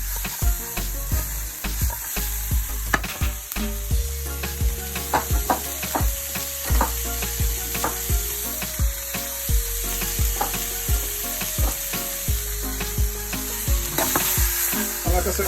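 Vegetables for a mackerel and leek cannelloni fry in a pan with a continuous close sizzle, broken by frequent sharp clinks and scrapes of a utensil stirring against the pan.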